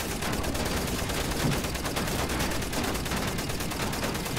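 Heavy enemy gunfire in the shooter Wolfenstein: The New Order, a loud, continuous burst of rapid automatic shots with a dense, rattling rhythm and no pause across the whole stretch, with no voices.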